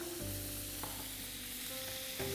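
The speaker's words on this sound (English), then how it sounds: "to the garlic and the butter that's been frying, we're going to add some vegetable stock" Soft, steady sizzling of garlic frying in butter in a pan, faint and close, with a few light clinks and a brief change as vegetable stock is added.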